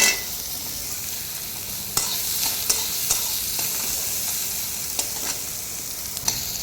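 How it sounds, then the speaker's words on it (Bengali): Chopped onions and garlic cloves frying in hot oil for eggplant bharta give off a loud, continuous sizzle, with sharp spatula scrapes and clicks against the pan every second or so, and no voices. "আর একটুখানি কুচিয়ে রাখা পেঁয়াজ দিয়ে দিচ্ছি এবার ভালোভাবে এগুলোকে ভেজে নেব"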